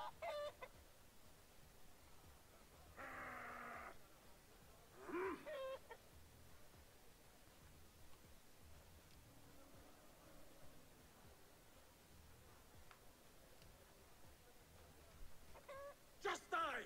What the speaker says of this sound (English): we're gonna release these chickens right here.